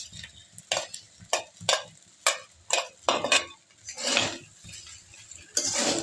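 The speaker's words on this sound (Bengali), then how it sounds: "পনির ভেজে রাখা একটু দিয়ে দেবো এর মধ্যে।" Fried paneer is tipped into a pan and stirred, giving repeated rhythmic spatula scrapes and clinks against the metal over a light sizzle, close and fairly loud with short pauses between strokes.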